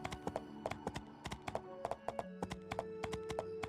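Horse hooves clip-clop steadily in the video game My Time at Portia, a rhythmic run of sharp, close hoofbeats over a low sustained game tone, with no talking.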